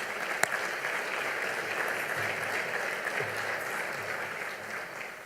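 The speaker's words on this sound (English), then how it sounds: "Let's give a round of applause to all of our sponsors." Steady applause from a luncheon audience fills the room for sponsors at a public policy event, dense even clapping throughout with one sharp clap standing out early.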